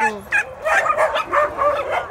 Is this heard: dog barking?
yes